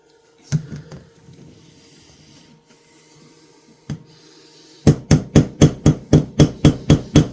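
A hammer peening a brass pin on a knife handle, a couple of scattered taps, then a fast even run of about ten sharp close metallic strikes.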